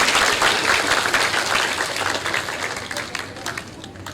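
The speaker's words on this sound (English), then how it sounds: "please give round of applause to the overture performance" Sustained audience applause after an overture performed by children at an inaugural university lecture, a dense steady clatter of many hands that slowly thins toward the end.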